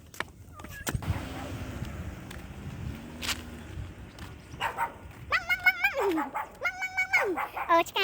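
A dog on an exercise walk along the seashore gives high whimpers and yips in quick bursts near the end, with footsteps and people talking around it.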